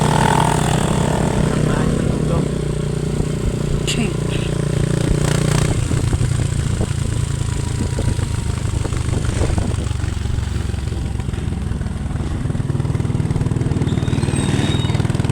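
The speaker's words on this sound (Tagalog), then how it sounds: "Puro mga motor, habal-habal." Habal-habal motorcycle taxis rumble and putter close by at night, engines droning steadily with some clattering, while voices talk faintly in the background.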